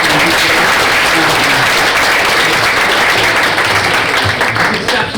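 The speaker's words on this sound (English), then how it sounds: "a massive round of applause, please, for all of the DECODE folks" Loud, sustained applause from a large audience at the DECODE innovation conference, dense clapping filling the whole clip without letup.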